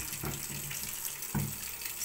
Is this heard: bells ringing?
no